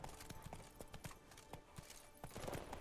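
Roach the horse's hooves clip-clop in a steady rhythmic trot in The Witcher 3: Blood and Wine, crisp, fairly close hoofbeats repeating evenly at low volume, with no talking.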